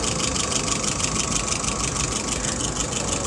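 A vehicle engine idling at 680 RPM produces a steady, even rumble with a faint rhythmic pulse, close and constant for the whole stretch, with no talk.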